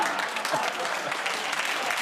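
Studio audience applauding at the close of a segment on a British comedy panel show, a steady dense wash of clapping held at even loudness throughout.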